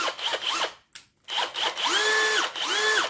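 A Bosch 18V cordless impact drill in drill mode whirs up and winds down in short bursts with a 10 mm bit, its pitch rising and settling with each press, fairly close and with no one talking.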